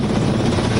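A helicopter flies over a hospital in Bengaluru, showering flowers. Its steady, loud rotor roar and whirring drone fill the short moment without pause.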